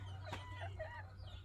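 Close chicken clucks and squawks rise and fall in quick succession over a steady low hum; no clear full crow stands out.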